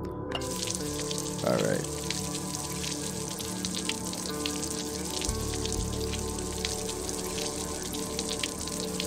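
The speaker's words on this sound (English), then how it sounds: "now can I shower because my bag's not full?" Steady hiss of a shower running in the video game Wasteland Survival, a continuous dense spray of water throughout, with a brief spoken word near the start.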